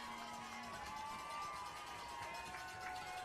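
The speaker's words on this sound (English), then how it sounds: "Crowd making some noise here." Spectators at a high school varsity football semifinal, Gilman versus Archbishop Spalding, make a faint, steady roar of crowd noise from across the stadium, a distant wash of cheering with no clear breaks.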